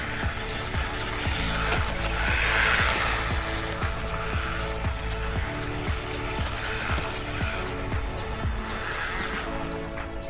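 A MJX HyperGO 1/14 brushless RC rally car drives and drifts on rough dirt, its whining motor and gritty scrabble of tires on soil continuous and fairly close, with rattling bumps throughout.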